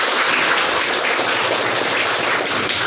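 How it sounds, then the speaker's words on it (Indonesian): A high school Islamic studies class gives a dense, continuous round of applause. The clapping is loud and steady for about three seconds with no talk over it. "Berikan tepuk tangan untuk kita semua."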